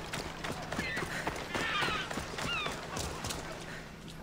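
Horse hooves clopping in Assassin's Creed Odyssey, a steady rhythmic run of hoof strikes over ambient game noise, with a few bird-like chirps drifting above.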